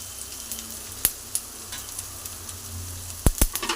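Capsicum rice stirred in a pan with garam masala, salt and turmeric powder: a low steady sizzle under scattered scrapes and clinks of a spoon, with a sharp pair of knocks near the end.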